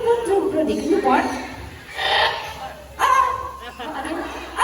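At a bird show at the Cebu Safari, a voice imitates a dog barking, with about three short bow-wow bursts spaced apart and a speaking voice and background noise in between.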